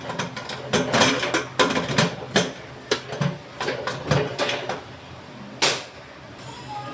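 Metallic clicking and clattering in a quick irregular series of sharp knocks, close by, as a pressure cooker lid is twisted and locked into place, with no talking.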